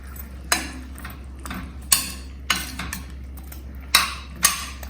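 A spoon stirs paneer pulao with masalas in a pressure cooker, making about six sharp metallic clinks and scrapes against the pot at uneven intervals over a low background hum.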